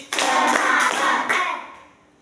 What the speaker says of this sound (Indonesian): Tepuk satu kali, tepuk dua kali, tepuk tiga kali